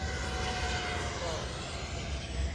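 A Freewing F-14 radio-controlled model jet flies by during speed and stall tests, its electric ducted-fan engine giving a loud, steady rushing roar with a thin whine sliding across it.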